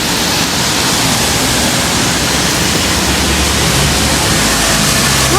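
Water runs steadily from a bathtub shower in a hammam in Denizli, Turkey, a loud, unbroken hiss and splash that fills the whole stretch without pause.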